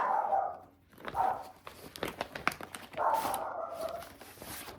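A dog barks loudly nearby indoors: several sharp barks with whiny yips between them, and no talking.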